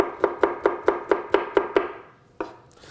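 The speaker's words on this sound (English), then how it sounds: "just fine chop the garlic" Garlic being finely chopped with a knife on a board for beef stew: eight crisp, evenly spaced knife strikes in quick succession, then a pause and one last chop, close and clear with no talking.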